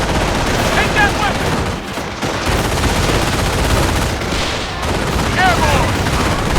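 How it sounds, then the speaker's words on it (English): Dense battlefield gunfire in the World War II strategy game Company of Heroes, on the Vierville mission, with continuous rattling rifle and machine-gun bursts up close and occasional voices calling out over the shooting. "Red troops firing on us!"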